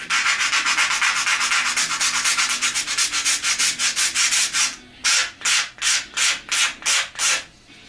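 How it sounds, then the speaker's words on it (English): A sander rasps back and forth over an RC plane part in rapid, even strokes, close and loud, then slows to slower, separate passes with short gaps between each stroke. "shape up with a sander"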